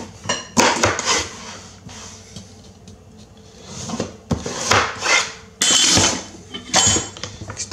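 Pumpkin being cut in half with a knife for pumpkin atole, heard as irregular scraping, knocking and rasping bursts of blade on rind and board, close and fairly loud, with no talk.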